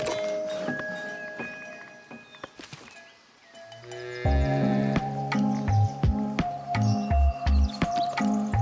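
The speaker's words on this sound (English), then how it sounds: "A cow farm." Cows on a dairy farm in the video game Foundation moo in deep, repeated calls over a soft backdrop of birdsong and ambient game tones.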